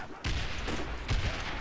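Mini cannon weapon firing in a Call of Duty Zombies custom pirate ship map, two heavy booming shots about a second apart, loud and close over game noise.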